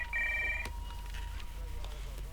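On an outgoing phone call, a single short ringback tone sounds, then cuts off, leaving a low steady hum and faint background noise.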